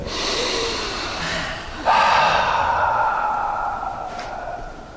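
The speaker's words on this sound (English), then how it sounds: "take a deep breath" A single deep breath, a long audible inhale followed by a sustained exhale, close and clear with no other sound.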